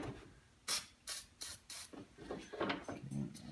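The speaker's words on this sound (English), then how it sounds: "I'm going to spray some in there." Lubricant is sprayed from an aerosol can onto a car door's window regulator track, four quick hissing bursts close to the microphone followed by softer, uneven sprays and faint rattling.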